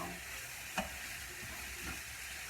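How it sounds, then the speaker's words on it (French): Minced meat and carrots cooking in a pan give off a soft, steady sizzle, with one faint clack of the utensil near the start, quiet and close with no voices. "là, je remue la viande hachée avec les carottes"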